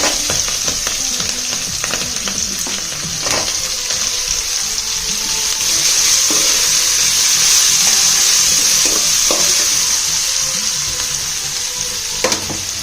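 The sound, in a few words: green chilies, curry leaves and onion frying in a pan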